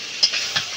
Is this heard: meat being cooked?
yes